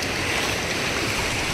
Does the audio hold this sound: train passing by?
no